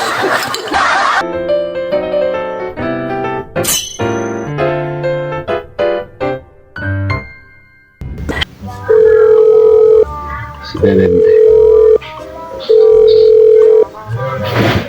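A telephone handset plays a series of electronic dial and keypad tones, then a steady dial tone returns in three long, loud beeps separated by short gaps, set in a Sundanese comedy sketch with people talking and laughing.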